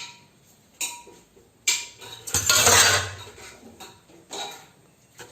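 Pots and dishes being washed in a home kitchen, with scattered metallic clinks and clatters and a louder scraping, splashing stretch in the middle, all fairly close.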